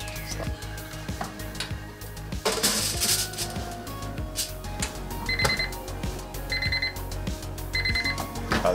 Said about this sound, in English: Alarm went off.